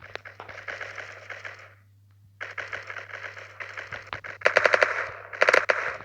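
Rapid automatic gunfire from the video game Block Strike rattles in fast bursts with a brief gap in the middle, loud and crisp over a low steady hum.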